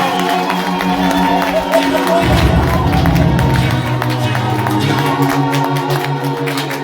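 Guests at an engagement celebration break into loud clapping and cheering, a dense crowd roar with whoops that swells midway and carries on steadily.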